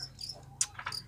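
A fighting cricket chirps in short, bright bursts, several quick trills clustered close together over about a second, up close against a quiet background.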